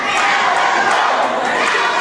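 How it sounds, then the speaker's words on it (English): A wrestling show crowd at an SWE Fury event roars and cheers loudly and steadily throughout, a dense wall of voices with no pauses. "Great crowd getting very much behind the action here in SWE Fury."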